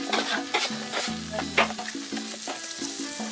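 Onion stirred and frying in a pan for Salvadoran tortas, a steady sizzle with scraping stir strokes and a few clattering utensil knocks over a low musical background; no talking.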